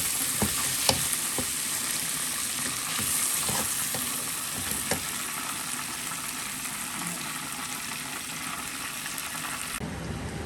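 Rice pot on a stove, salted and cooking while a rice dish is made, gives a steady continuous sizzling, bubbling hiss with occasional small pops and clicks, close and alone without talk.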